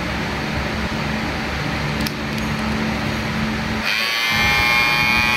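A Zoro ZR-022 electric hair trimmer set to zero gap hums steadily up close, then its pitch shifts and rises into a brighter, louder buzz partway through, with no talk.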